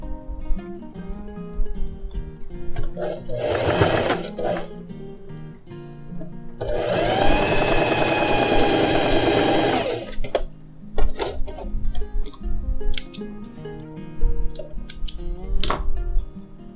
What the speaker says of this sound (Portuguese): depois você joga na máquina para costurar